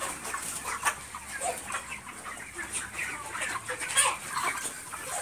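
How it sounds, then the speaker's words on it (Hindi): Many chickens on a large poultry farm cluck and squawk together in a busy chorus, scattered calls overlapping at moderate distance with a constant background murmur. "तो ये देखिए दोस्तों, कितना बड़ा मुर्गी फार्म है ये।"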